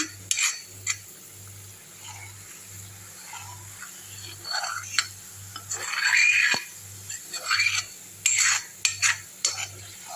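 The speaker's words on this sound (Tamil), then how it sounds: "ஏழு நிமிஷம் கழித்து நான் ஒரு கிண்டு கிண்டுறேன்" Homemade coconut oil cooking in a pan, with a low steady bubbling pulse underneath and intermittent scraping and clinking as a utensil stirs the pan, no talking.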